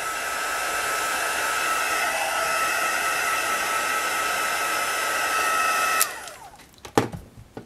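A heat tool blows hot air steadily over an ink-colorwashed paper butterfly craft, a loud, continuous rushing roar that cuts off abruptly near the end, followed by a few light handling knocks.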